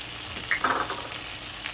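Tomatoes drop into frying onions in a pan for methi chicken curry, a soft burst of sizzling over a steady low hiss of hot oil.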